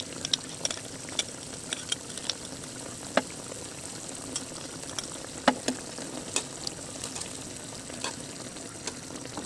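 Pork hamonado simmering in a pan as brown sugar is stirred in, with a steady soft sizzle and bubbling and scattered light clicks of a spoon against the pan.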